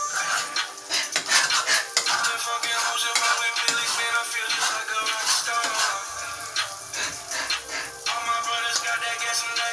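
A metal spoon scrapes and clatters steadily around a pan of cooking greens, with rapid, busy stirring strokes over a faint sizzle that continues almost without pause.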